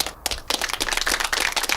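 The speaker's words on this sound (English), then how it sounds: "that is just a polite applause because you were here" Short burst of polite applause, a brief scattering of claps that quickly settles into a steady patter.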